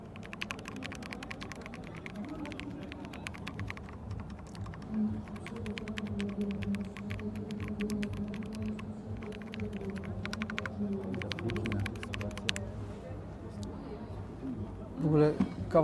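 Rapid keyboard typing clatters steadily under a voice speaking nearby, with a low hum beneath.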